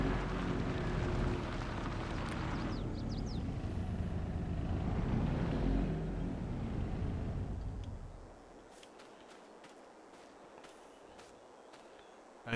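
Tractor engine in Farming Simulator 22 starting up and running with a steady loud rumble for about eight seconds as it drives, then cutting off to near silence with faint clicks.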